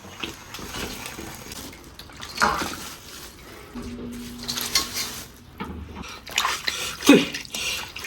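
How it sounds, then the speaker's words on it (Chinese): Blanched chicken heads are rinsed in water in a kitchen, with intermittent splashing, trickling and sloshing, occasional clinks of a bowl, and a brief tonal hum in the middle. "焯水给它捞出来洗一下"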